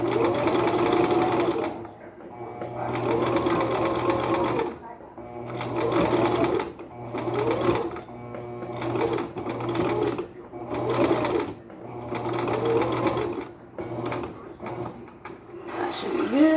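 Sewing machine stitching fabric for a pair of shorts, running in repeated bursts of a few seconds each with brief pauses between, a steady mechanical whirring hum close by, with a person talking over parts of it.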